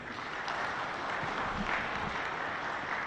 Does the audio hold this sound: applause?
yes